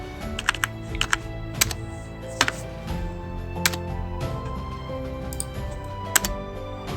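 Computer keyboard typing HTML code, quick clusters of crisp key clicks with short pauses, close and fairly loud over a faint steady hum.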